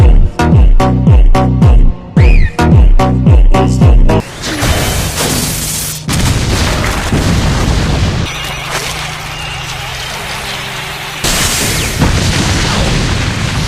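Explosive booms and crashing blasts from an anime fight scene between Gojo and Jogo, a rapid run of loud impacts giving way to sustained roaring rumble with further heavy bursts, with no spoken words.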